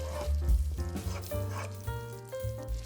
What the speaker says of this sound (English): We're going to go ahead and mix it. And we're going to bring it to a light simmer.